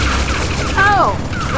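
Turret fire in the video game Tales From The Borderlands, a dense continuous barrage of loud gunfire with ricochet-like whines and crashes, steady and close throughout.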